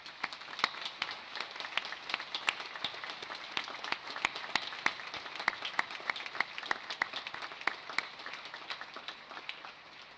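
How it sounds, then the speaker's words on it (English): Steady applause from a graduation ceremony audience, dense overlapping claps with sharper individual hands standing out, sustained at an even level for about ten seconds with no talking. "acknowledge this support with a hearty round of applause"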